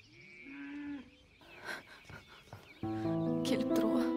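A calf moos in a drawn-out call near a farmhouse, followed by other rustic sounds and a louder, denser burst of noise toward the end.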